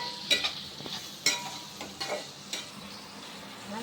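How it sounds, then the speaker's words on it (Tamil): Onions sautéing in a pan on an electric stove for chicken gravy, with a soft steady sizzle under scattered light clinks and scrapes of a spoon stirring, fairly close and moderately quiet. "வெங்காயம் நல்லா வதங்கினாதான் தொக்கு நல்லா இருக்கும்."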